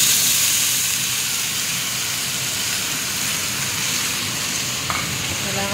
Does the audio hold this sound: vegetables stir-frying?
yes